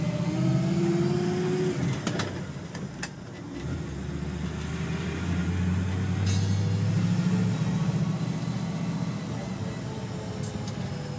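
A 1956 Chevrolet Bel Air driving, its engine a low steady hum heard from inside the car that rises and settles with the throttle, with a few clicks and knocks and a brief lull near the start.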